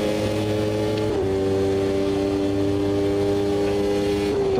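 Formula 1 car engine at Donington in the racing game Automobilista 2: a steady, loud high-revving drone holds flat out down the straight, with a brief gear-shift dip in pitch, and no talking.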